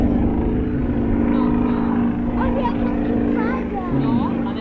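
Yak-55M aerobatic airplane engine droning loudly and steadily, a dense propeller hum close by with a low buzzing tone, with someone talking over it throughout.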